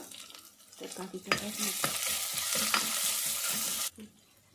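Curry leaves drop into hot oil for a fish curry, setting off a sudden bright sizzle that holds for a few seconds with a few stirring knocks, then cuts off abruptly, close and fairly quiet.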